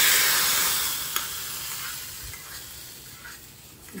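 A tempering of dried red chillies frying in oil, a soft hiss that starts louder and gradually fades, with a faint clink partway through.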